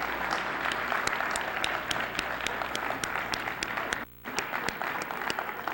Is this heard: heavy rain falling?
no